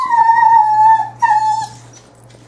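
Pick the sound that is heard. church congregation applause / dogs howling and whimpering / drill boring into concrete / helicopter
dogs howling and whimpering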